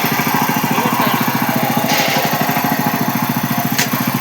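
A power weeder's small engine running close by, a loud rapid throbbing putter with a steady rhythmic pulse and a couple of brief higher clanks.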